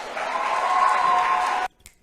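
Audience applauding steadily for under two seconds, a dense even patter of claps and snaps that cuts off abruptly, leaving near silence.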